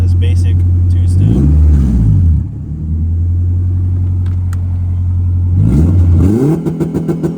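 A boosted car engine held on basic 2-step launch control at about 4,800 to 5,000 rpm, with a loud, close, steady limiter drone and two sharp revving swells.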